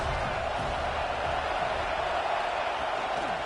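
A football stadium crowd roars in a steady, distant wash of cheering and noise, sustained without breaks for a few seconds.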